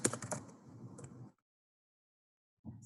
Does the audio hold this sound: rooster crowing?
no